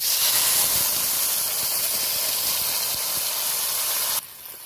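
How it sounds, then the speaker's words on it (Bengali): Water hits a pan of hot curry masala, giving a loud, broad sizzling hiss that holds steady for about four seconds, then cuts down abruptly to a quieter simmer. "এবার আমি একটু জল দিয়ে দেবো মাপ মতো জল দেবো"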